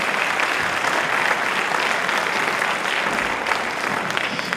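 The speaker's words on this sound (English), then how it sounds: "And I think there's a round of applause." A crowd applauds at a fundraising gathering, steady dense clapping that holds evenly for the whole stretch without breaks.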